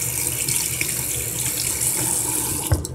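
Water runs steadily from a sink faucet during a makeup brush rinse, a continuous close splashing hiss that ends with a brief clunk as the tap shuts off.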